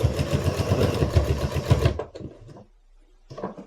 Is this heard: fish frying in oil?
no